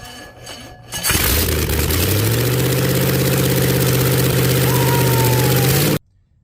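A rebuilt 1964 Chevrolet engine cranks and catches, then settles into a loud, steady idle with a rough rhythmic rumble before cutting off abruptly.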